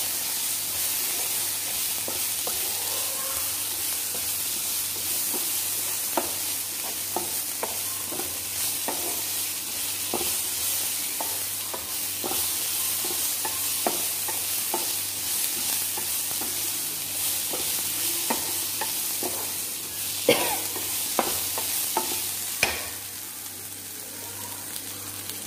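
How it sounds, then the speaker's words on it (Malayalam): Ginger, garlic and green chili paste sizzles steadily in a pan while a spoon scrapes and stirs through it in scattered taps, a close, continuous frying hiss with no talk. "ഇതിലേക്ക് ഇഞ്ചി, വെളുത്തുള്ളി, പച്ചമുളക് പേസ്റ്റാക്കി ചേർത്ത് നന്നായി ഇളക്കി കൊടുക്കുക."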